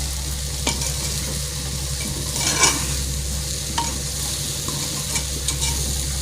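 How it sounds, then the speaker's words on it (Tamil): Vegetables with chili powder sauté in a pan with a loud, steady sizzle, while a spatula occasionally scrapes and taps against the metal. "ஒரு 2 நிமிஷம் வதக்கிட்டு எடுத்துட வேண்டியது தான்"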